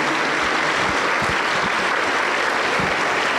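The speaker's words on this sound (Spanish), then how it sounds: "Aplauso para el Señor Jesucristo." Church congregation at an evangelical worship service applauding together, a dense, steady wash of clapping that fills the room, with a few louder low thumps and faint voices beneath.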